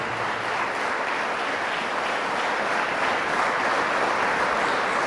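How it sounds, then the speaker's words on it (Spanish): A church congregation breaks into sustained, dense applause for Jesus of Nazareth during a Catholic service, a steady, loud wash of many hands clapping without pause and no voice over it. "Fuertes aplausos a Jesús de Nazaret."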